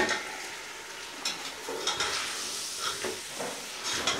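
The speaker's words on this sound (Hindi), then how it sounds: "अब इसमें 1 kg बीफ का गोश्त डालेंगे।" Beef meat, a full kilogram of it, frying in a pot for korma, with a steady loud sizzle and hiss broken by scraping stirs against the pot, no voices.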